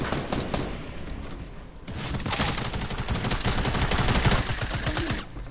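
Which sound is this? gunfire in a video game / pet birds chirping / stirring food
gunfire in a video game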